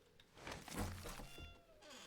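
A voice imitates a cat with a few soft, drawn-out meows in quick succession, quiet and close.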